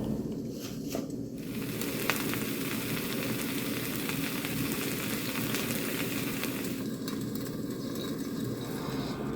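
Eggs and onions fry in a pan with steady sizzling and crackling, continuous and fairly quiet, with no talking.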